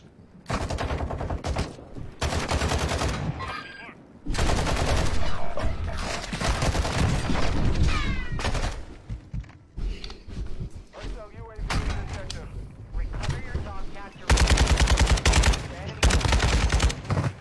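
Gunfire crackles through a video game battle as hostiles drop into the area, loud bursts of automatic shots and thuds recurring across the whole stretch, with in-game voices and chatter mixed in.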